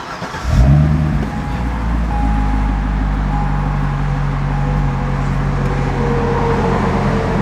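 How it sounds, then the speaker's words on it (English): A 2008 Chevrolet Corvette C6 convertible's LS3 V8 engine cranks and roars to life, then settles into a deep, throaty rumble with light revving, loud and close. "now I'm going to actually fire up the unit so we can take a look at a couple other features and listen to the sound"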